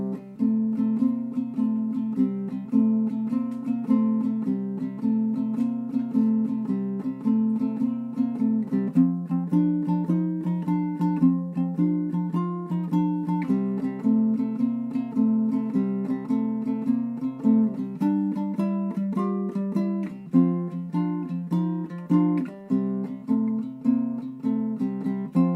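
Ukulele picked note by note in a slow, repeating pinky-finger pressure exercise, clean and close with a steady rhythm and no talking.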